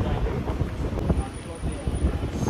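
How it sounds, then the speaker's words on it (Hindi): Wind gusts outdoors in Covent Garden, London, beneath a tree, rumbling steadily across the microphone as a broad rushing noise with faint background voices. "तो हवा चल रही है, सुकून बॉस"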